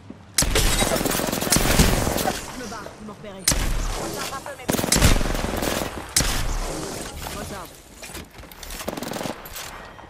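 Heavy video game gunfire in bursts: loud, close, rapid volleys and explosive booms separated by brief lulls, with a voice talking between them.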